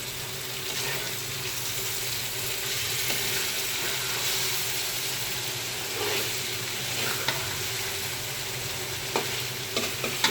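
Tilapia pieces fry in cooked-down spiced masala with risen oil, a steady close sizzle with occasional spoon scrapes and a few sharper clatters near the end.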